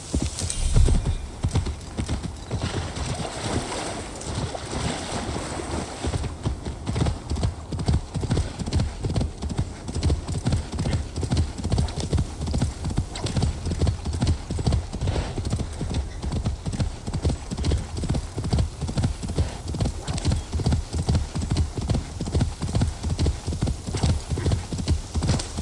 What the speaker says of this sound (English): Yep, I need horses right now.